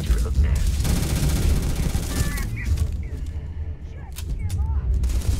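Gunfight in the video game Starfield, with gunfire and booming shots filling a dense, continuous battle din over the whole stretch, loud and near, under a few faint game effects.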